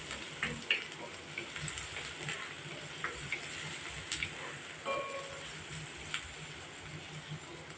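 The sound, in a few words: onions frying lightly in a pan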